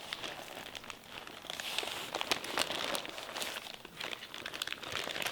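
A smoked USDA Prime brisket, cooked on an offset smoker, is unwrapped from butcher paper. Soft, close paper crinkling and rustling continues in uneven bursts, quiet and with no talking.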